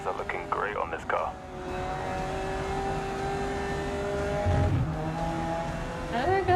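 Race car engine and tire squeal in the video game Grid Legends: a continuous engine drone with shifting pitch and a brief squeal, under a talking voice.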